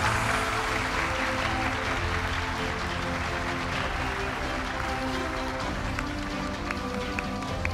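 Applause from an awards ceremony audience at a journalism prize event, a dense, steady wash of clapping that holds loud for the whole stretch over a low tonal background.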